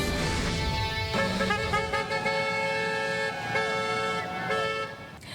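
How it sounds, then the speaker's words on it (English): Several car horns honk at once outside a hospital, overlapping long blasts and short toots from nearby vehicles, loud and continuous over traffic noise. "Honks for Dr. Hutch were heard throughout CRMC all morning long."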